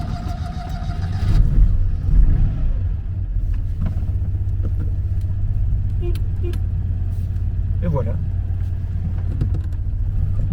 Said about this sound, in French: monsieur va pouvoir voir que sa voiture démarre sans souci